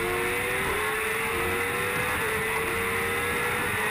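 Racing motorcycles accelerating down the back straight with throttles open, a steady loud engine drone with a rising whine that continues without a break.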